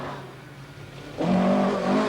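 A rally car on the 1985 Lombard RAC Rally accelerates hard out of a corner, with the engine note rising sharply to a loud, sustained rev at close range.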